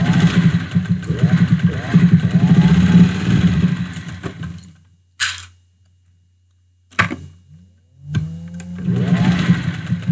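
A sewing machine stitching fabric face masks runs in quick rhythmic bursts, loud and close, stopping for a few seconds of near silence with a couple of clicks before starting again, with faint talk at times.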